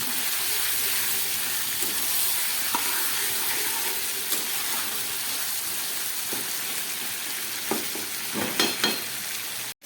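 Ginger-garlic paste sautéing in a pan for mutton kosha, a constant hiss of frying broken by scraping stir strokes that cluster toward the end, close and fairly loud.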